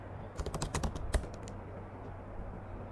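A quick burst of typing on a computer keyboard, about a dozen crisp close key presses in the first second and a half, then only steady background hiss.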